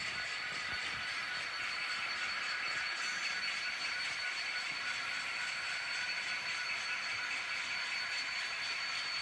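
A continuous mechanical whir and clatter of a small N scale model coal train running steadily along its track, even in level with a faint high hiss.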